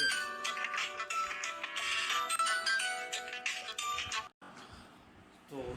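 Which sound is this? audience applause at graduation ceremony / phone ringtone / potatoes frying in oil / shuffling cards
phone ringtone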